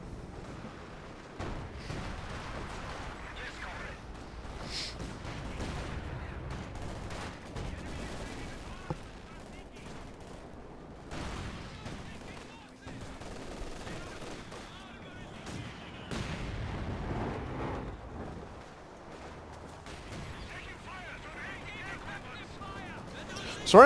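Katyusha rocket artillery and mortar barrages in the Company of Heroes 2 video game, a steady run of booming impacts and crackling gunfire through the battle, with a commentator talking over much of it.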